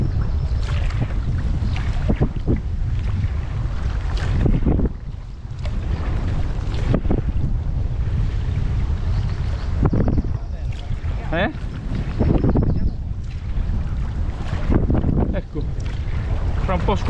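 Strong wind buffets the microphone while kayaking on a river and passing under a bridge, a constant loud roaring rumble with gusting swells and water sounds, while people talk over it.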